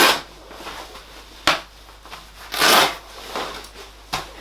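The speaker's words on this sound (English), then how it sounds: "It's quite noisy. It has like this water resistant material," Crinkly rustling of a stiff water-resistant jacket fabric in several short bursts, close up, with quiet pauses between handlings.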